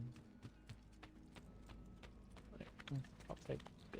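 Rhythmic hoof clip-clops from a horse in Assassin's Creed II, moderately close, with game background sounds and a voice talking over them.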